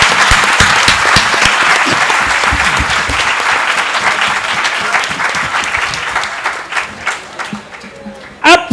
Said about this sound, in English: Can we have a thunderous applause?